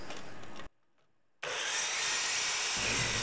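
An Evolution EVOSAW180HD metal-cutting circular saw finishes a cut: a loud, steady, harsh whine cuts out briefly, then resumes close and continuous, with no voices.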